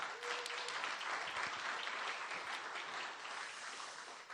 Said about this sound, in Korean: 고문님께 큰 응원의 박수 한번 주시기 바랍니다